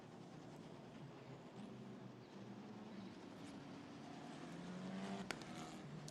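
Italian Formula 4 race cars circulate slowly behind the safety car at Mugello. They make a faint, distant engine drone that swells slightly toward the end, with a few tonal whines rising over a broad hum.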